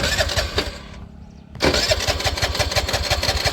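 A petrol vehicle engine turns over and catches with a sudden roar, then settles into a loud, steady, throbbing idle close by.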